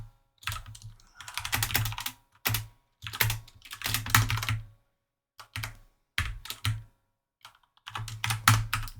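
Fingers type on a computer keyboard in close, quiet bursts of rapid key clicks with short pauses between runs.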